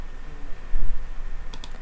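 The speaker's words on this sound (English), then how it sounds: "Sorry again for loud typing." A computer keyboard is typed on loudly and close up, with a steady patter of clicky keystrokes over a broad background hiss and a quick cluster of sharper clicks near the end.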